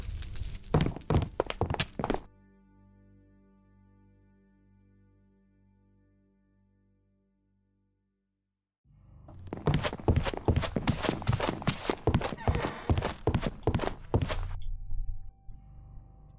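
Minecraft footsteps come as a quick string of dry, even thunks, then drop out into a quiet held tone before a long, steady run of near footfalls resumes.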